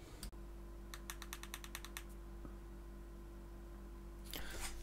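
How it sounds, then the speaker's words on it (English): The fire button on a GTRS Loco pod vape is pressed in a rapid run of about seven crisp, close clicks, then a single faint tick and another brief burst of clicking near the end, over a quiet electrical hum. "I love a clicky button."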